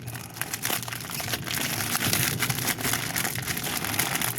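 A plastic acid pack for a new motorcycle battery is handled and opened, giving a continuous close crinkling and crackling of packaging, heard alone.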